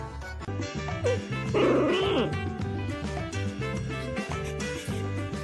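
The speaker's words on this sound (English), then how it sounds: "dogs don't share. They negotiate with growls," Dogs growling while tugging over something, with a short snarling burst standing out against a steady rhythmic music bed that plays throughout.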